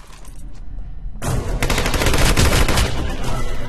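Gunfire in Hitman: Absolution: after a low background hum, a sustained volley of rapid shots breaks out and keeps going, loud and close, with blasts blending into a continuous rattle.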